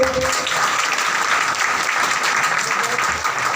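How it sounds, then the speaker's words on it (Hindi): An audience claps loudly and continuously for someone speaker at a rural gathering. The dense, even applause fills the whole few seconds without a break. "चलिए मैडम के लिए जोरदार ताली।"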